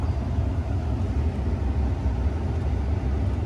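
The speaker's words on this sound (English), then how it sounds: "Turn the truck on, you can hear the fan speed is on high." The blower fan of a 2009-2014 Ford F150 runs on high speed with a steady, close-up whooshing hum, with low rumble from the idling truck underneath and no change in pitch or level.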